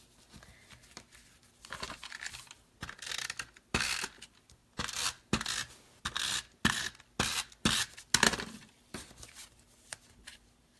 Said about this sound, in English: got my ribbon scissors here